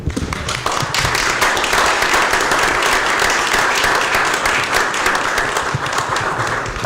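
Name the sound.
audience clapping hands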